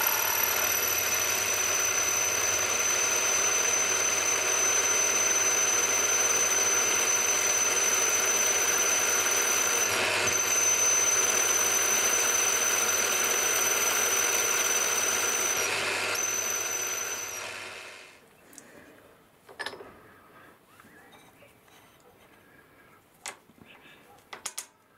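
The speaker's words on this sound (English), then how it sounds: "Now I need to drill a 3/8 hole." A steady, high-pitched whine of a drill cutting a 3/8-inch hole through metal held in a vise runs continuously, then stops, leaving a few light clinks and taps.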